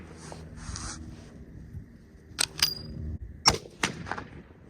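Several sharp gunshot cracks come from a .454 Casull handgun fired with reloaded ammunition at an outdoor range. The cracks are spaced irregularly over a low, quiet background, with no speech.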